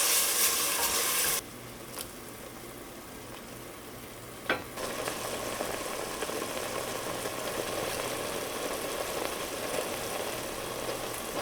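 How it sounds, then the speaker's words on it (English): Aromatics for a plant-based Gambian okra soup sautéing in a pot, a soft even sizzle with a brief loud burst at the start, a sharp knock midway and light stirring noises. "Stir this combination together really well and let it saute for about 7 minutes so that the aroma will intensify"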